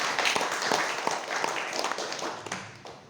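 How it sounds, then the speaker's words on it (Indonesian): Applause from an audience gathered at a church parish event in Majenang, a dense wash of claps with distinct hand strikes poking through, fairly close and fading toward the end, with no talk over it. "Luar biasa, tepuk tangan."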